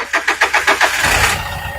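A car engine being started by a mechanic cranks in about seven rapid, evenly spaced pulses and then catches into a rough, rumbling run, loud and close, with no talking.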